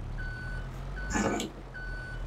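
Truck reversing beeps in the video game Farming Simulator 22, steady evenly spaced tones over a low engine hum, with a brief hissy burst midway.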